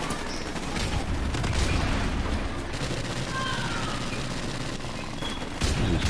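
Gunfire in Call of Duty Modern Warfare Remastered, a dense, continuous fusillade of rapid shots and booms throughout, loud and close, with faint talk mixed in.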